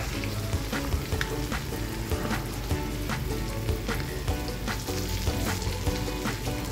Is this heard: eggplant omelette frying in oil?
yes